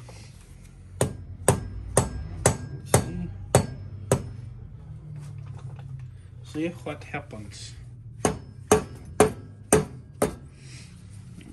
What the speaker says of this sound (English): smack it with a deadbolt hammer a couple times and see what happens